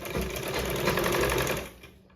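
A sewing machine runs in one brief burst while stitching a cross piece onto a blouse neck, a fast, even whirring chatter that cuts off abruptly.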